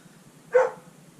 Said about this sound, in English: there's something really exciting going on outside because all the dogs are barking, not just Luna